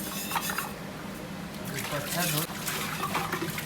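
Tap water runs and splashes steadily while a pressure cooker and kadhai are washed, with continuous trickling and rinsing and a person talking over it.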